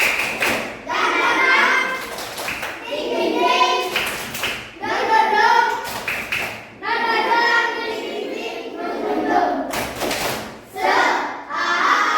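Children chant together with bursts of sharp, rhythmic hand claps between phrases, loud and close, repeating in a regular pattern.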